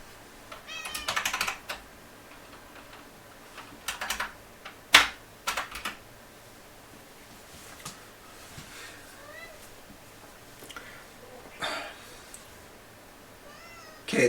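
A crying cat meows several times in short, scattered bursts, some louder and some faint, over a low room background with soft clicks like keyboard typing.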